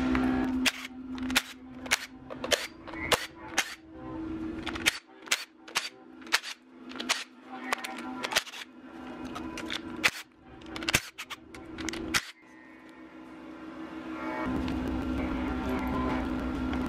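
Valve-cover bolts, 10mm, come off a BMW M54 engine with a rapid series of sharp clicking bursts from a ratchet, close and crisp, followed by a steadier rushing noise at the end.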